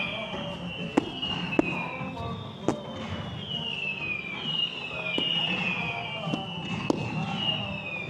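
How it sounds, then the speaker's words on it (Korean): A virtual reality fireworks game at a sports experience center plays synthetic fireworks: sharp pops spaced irregularly, with falling whistle tones between them, over a moderate background hubbub and faint talk. "여기는 올라오는 폭죽들을 이렇게 터트려 가지고 이렇게"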